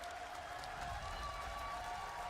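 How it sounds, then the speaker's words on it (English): A large arena crowd applauds and cheers the players on stage at an Apex Legends esports tournament, a dense, steady roar of clapping that fills the whole moment, with a commentator's voice faintly underneath. "as the crowd pays their appreciation to every player on this stage and every team"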